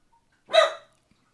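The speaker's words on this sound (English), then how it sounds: "I have a dog that's barking" A single short, sharp dog bark, close and loud, standing alone in otherwise near silence.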